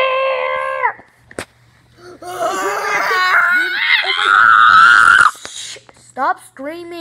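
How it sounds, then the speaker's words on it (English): A child screams and wails loudly during a Fortnite game, rising into a long, strained shriek that breaks off abruptly. Shorter cries follow at the end. "Stop screaming!"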